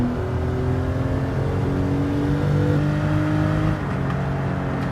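A Porsche 911 Carrera RS (964) engine in the video game Gran Turismo 7 revving hard, a loud, steady mechanical drone whose pitch climbs and shifts in stages, with no voices.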